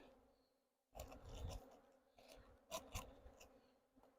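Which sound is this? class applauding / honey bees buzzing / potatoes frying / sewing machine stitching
honey bees buzzing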